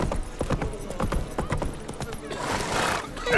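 A horse in The Witcher 3: Wild Hunt clip-clops with a rhythmic run of close hoofbeats, then gives a whinny near the end.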